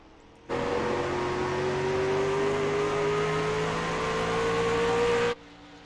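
A thunder truck engine in a video game drones steadily through a qualifying lap, its pitch climbing slowly as it holds a loud, even roar before cutting off abruptly.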